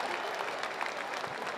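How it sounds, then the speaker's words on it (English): Crowd applause at a World Championship Campdraft, a brief burst of moderately faint, diffuse clapping carrying over the arena ambience. "Give him a round of applause."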